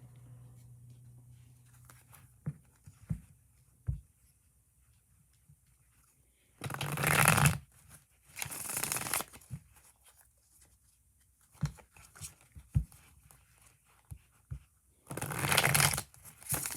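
Tarot cards being shuffled nearby, with several long riffling, papery bursts separated by quieter stretches of soft taps and handling noises, and no talking.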